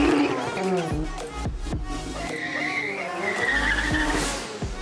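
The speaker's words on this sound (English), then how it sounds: "when you hear a rotary engine making power, that's high RPM" A flame-spitting Corvette Z06 with a swapped-in two-rotor rotary engine revs hard at high RPM in a loud, raspy, rising and falling snarl with sharp bursts.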